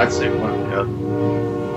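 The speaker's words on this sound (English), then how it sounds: "The 10 o'clock train just came by." A train rolls past an old depot sounding its horn, a loud sustained harmonic blare that carries on steadily while someone talks over it nearby.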